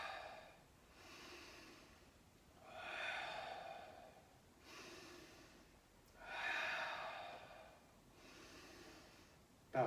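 Deep breathing during a breath work and stretching session: slow, loud breaths in and out through nose and mouth, about four long cycles in a quiet room.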